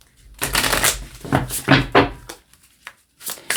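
Crisp riffling bursts of cards being shuffled, several quick rattling passes with short pauses between them, close by and fairly loud.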